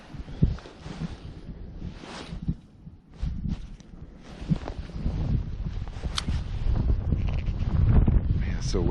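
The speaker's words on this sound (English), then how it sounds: "Man, it's so windy." Gusty wind buffets the microphone on a windy South Dakota lake during perch fishing, a loud continuous low rumble with surges and dips throughout, while someone talks intermittently.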